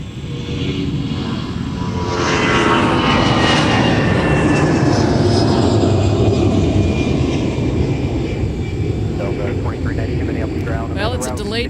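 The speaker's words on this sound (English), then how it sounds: "It's the A350 Big Sexy" Airbus A350 airliner taxiing at Minneapolis–Saint Paul airport, a loud, steady engine roar with a rising whine that swells after two seconds and holds close by, with people talking faintly beneath it.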